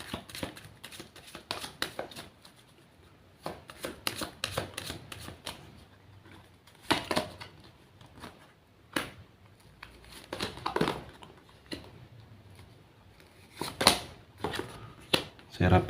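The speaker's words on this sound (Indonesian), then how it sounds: "Saya shuffle terlebih dahulu." Tarot cards are shuffled in a series of soft, papery riffles and slaps, coming in irregular bursts at close range and fairly quiet, with brief gaps between handfuls.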